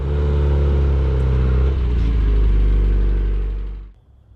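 Turbocharged classic Mini engine warming up: a loud, steady, rumbling idle with a slight mechanical clatter, close by, holding evenly for about four seconds before cutting off abruptly.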